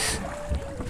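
A boat is rowed on the river at Bhedaghat, with soft oar and water sounds and wind over the microphone for about a second, no voices.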